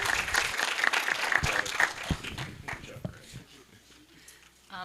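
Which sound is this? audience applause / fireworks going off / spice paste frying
audience applause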